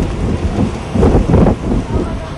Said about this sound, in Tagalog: Igan, sa ngayon ay pabugso-bugso pang pag-ulan dito sa Baguio City.